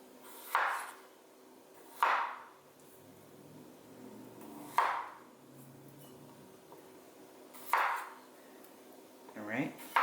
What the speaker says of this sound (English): I'm going to cut these into quarters, and in they go